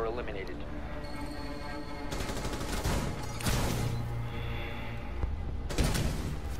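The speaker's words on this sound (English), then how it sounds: "It's a freaking shotgun!" Shotgun blasts in Rainbow Six Siege, a few heavy booming shots with thuds among in-game noise, heard under a loud, agitated voice.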